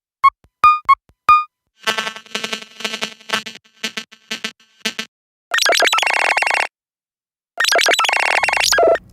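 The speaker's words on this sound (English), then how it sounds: "you can pair ringtones with certain contacts" The Nothing Phone 1 plays a ringtone made of crisp electronic beeps and tones, first as quick plucked notes, then as choppy rhythmic bursts and longer buzzing chimes separated by gaps of silence.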